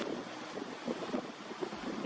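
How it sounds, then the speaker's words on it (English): Wind gusts buffet the microphone outdoors, a rough, fluttering roar with uneven bursts and a faint low background. "It's getting windy."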